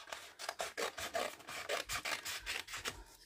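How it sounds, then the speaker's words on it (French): Scissors cut basic cardstock in a quick series of rapid, rasping snips, faint and close with a steady rhythm and no voices. "je vais faire avec le ciseau."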